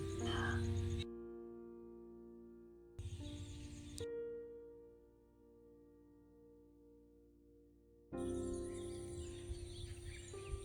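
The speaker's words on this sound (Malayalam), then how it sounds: "നെൽക്കതിരുകളെ തഴുകി വരുന്ന കാറ്റും കിളികളുടെ ശബ്ദവും" Birds call across green paddy fields at Panjal, Kerala, with repeated tonal chirps and warbles in short bursts separated by quieter stretches, heard outdoors at moderate distance.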